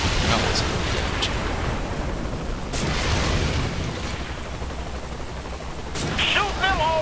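Gunfire in the video game Saint's Row, dense loud bursts blending into a constant roar of noise with a few sharper cracks standing out.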